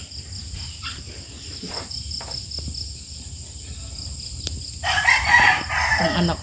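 A rooster crows loudly near the end at a farm chicken coop, over a steady bed of crickets, faint clucking and a brief spoken voice earlier.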